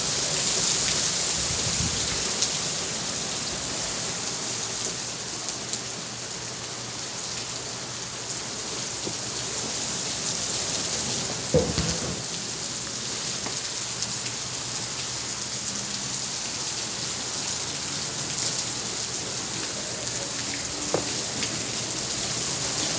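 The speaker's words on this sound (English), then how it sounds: "Raining pretty hard, after all." Heavy rain pours down during an Arizona storm under a flash flood warning, a steady, dense hiss of drops close by that barely changes for the whole stretch, with no voices.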